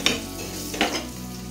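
Boiled dal tipped into a pan of vegetables frying in plenty of oil for winter-vegetable khichuri: a steady sizzle with two sharper bursts of stirring and hissing, near and loud, no voices.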